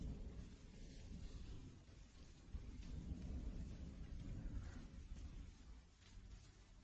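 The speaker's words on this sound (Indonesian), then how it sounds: "Hujan turun sangat deras." Heavy rain pours steadily with deep rolling thunder rumbling throughout, a dense, continuous downpour with no voices.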